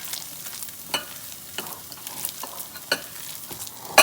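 A turkey meatloaf mixture is worked in a bowl with soft, wet scraping and squelching, broken by a few sharp utensil clicks against the side, close up with no speech.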